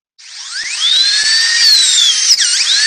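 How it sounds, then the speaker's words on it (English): A dentist's drill sound effect plays on a radio morning show: a loud, steady high-pitched whine with gliding pitch that briefly dips near the end, heard alone for about three seconds. "Drill out his teeth just one by one."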